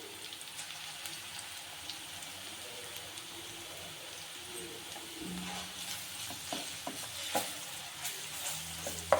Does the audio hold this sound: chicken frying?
yes